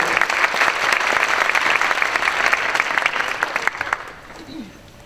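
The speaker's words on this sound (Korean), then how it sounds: "박수로 맞아주세요." Applause from an audience at a school graduation ceremony, welcoming a student speaker: dense, steady clapping that fills the hall, then thins and fades out over the last second.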